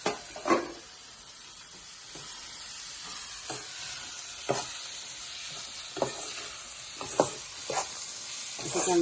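Turmeric and red chili powder stirred into a sizzling pan over a wood-fired stove for cooking wet dried shrimp, with a low frying hiss broken by repeated spoon scrapes and clinks at an irregular pace.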